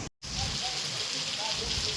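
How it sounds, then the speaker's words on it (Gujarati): Heavy rain pours down in Morbi in a thick, continuous roar of drops, briefly cutting out at the start before resuming at full strength. "એકદમ ધોધમાર વરસાદ"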